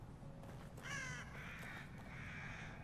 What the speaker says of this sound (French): Là, il y a un corbeau.